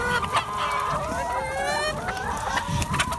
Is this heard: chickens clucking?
yes